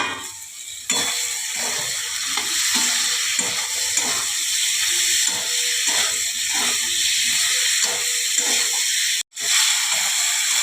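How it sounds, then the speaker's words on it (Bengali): Gravy with fried potatoes stir-fried in a pan for a Googli snail curry, a steady close hiss and sizzle running throughout with soft stirring scrapes and no talk. "এবারে আমি গ্রেভিটা এর মধ্যে কষাবো। আগে ভেজে নিয়েছি, এখন কষাবো।"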